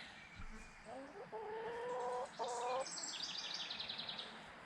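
Backyard homestead chickens clucking close by, a few short bursts of rhythmic clucks and higher calls, loud and clear against a quiet background.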